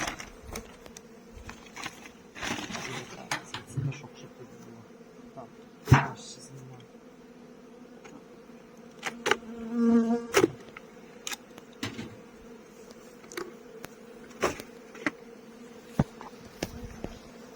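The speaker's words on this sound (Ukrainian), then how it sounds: "Бджоли досить швидко нападають." Honey bees buzz steadily in the background at opened hives while scattered knocks, taps and handling noises come and go close by.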